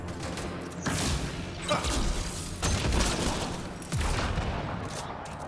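Gunfire in Mass Effect: Andromeda: repeated bursts of automatic weapon fire and impacts, loud and dense, layered with thumps and game mechanisms, going on across the whole stretch.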